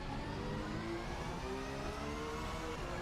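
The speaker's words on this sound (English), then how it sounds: "Just listen to the gearbox whine." A high, steady gearbox whine rises over the engine drone of a race car at speed, heard continuously without voices.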